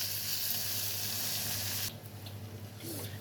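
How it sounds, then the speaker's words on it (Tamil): Onion, tomato and crab legs sautéing in a pan over heat, a steady close sizzling hiss that fades abruptly partway through, leaving quieter bubbling crackle. "இப்போ இது வந்து நல்லா வதங்கட்டும் வெங்காயம் தக்காளி இந்த நண்டு கால் எல்லாமே வந்து இந்த ஹீட்டில் நல்லா வதங்கட்டும்"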